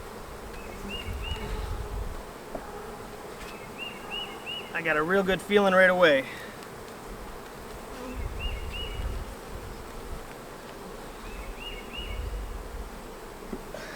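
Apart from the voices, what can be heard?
calm honeybees buzzing in a hive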